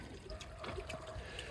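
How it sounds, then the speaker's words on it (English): Water runs out of the channel of an old farm water wheel, a soft, steady trickling and splashing flow heard close but quietly, with no talking over it. "That makes the water flow a little smoother"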